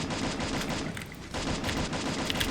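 Rapid gunshots from the battle-royale video game Free Fire, a dense, continuous volley of shots with a brief lull midway, loud and close with no talking.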